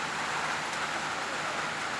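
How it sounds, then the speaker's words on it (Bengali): Heavy rain comes down in a short burst of steady, close hiss with no gaps and no voices. "কড়া বৃষ্টি হইতেছে।"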